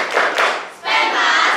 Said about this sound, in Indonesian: Bisa tepuk semangat dulu?